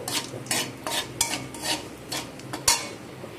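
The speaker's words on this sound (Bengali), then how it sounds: "ফোড়নটাকে একটু ভালো করে ভেজে নেব।" A dried red chili, whole cumin seeds and five-spice seeds are fried in hot oil in a pan. A spatula scrapes and stirs in quick, repeated strokes over a soft background, close and with no talking.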